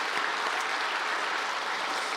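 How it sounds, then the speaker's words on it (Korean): A church congregation claps to welcome new members during a Sunday service, a uniform wash of many hands applauding at a steady, moderately loud level throughout. "자, 우리 환영하고 축복하는 박수 하도록 하겠습니다."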